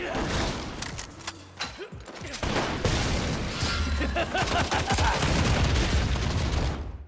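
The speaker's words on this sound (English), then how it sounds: "Pistols offer quick attacks, shotguns for short range burst skills, and the rifle for long range, powerful attacks." Pistol, shotgun and rifle fire from the online action game Lost Ark crackles in rapid bursts and volleys with booming impacts and mechanical clatter, loud and dense almost throughout.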